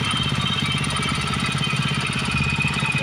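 Mud motor boat engine running just after a pull start, a loud close rapid chugging and knocking rhythm, steady throughout with no voices.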